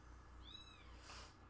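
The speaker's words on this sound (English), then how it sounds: "Please excuse the kitten meowing in the background if you guys can hear it." A kitten meows faintly in the background indoors, one drawn-out rising cry followed by a softer breathy sound, with no talking.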